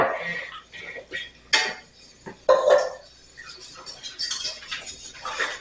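A spoon stirs lobster thermidor cream sauce in a pan, with intermittent scraping and clinking strokes against the metal, close and moderately loud, no talking.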